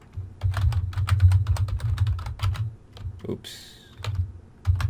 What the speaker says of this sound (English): in here I'm just going to type in